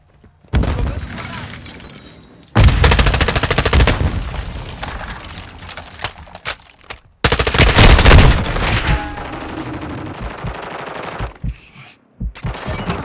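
Call of Duty: Modern Warfare II gunfire roars in two long, loud barrages of rapid automatic fire, with shorter scattered shots and crackling impacts between and after them.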